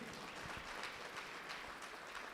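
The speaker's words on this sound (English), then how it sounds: "please give him a round of applause" Audience applause at a school governing body excellence awards ceremony, a steady wash of clapping that holds at an even, moderate level throughout with no voices rising above it.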